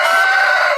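A hen in a hen house on a farm gives a single loud, close, drawn-out call lasting under a second, with no talk over it.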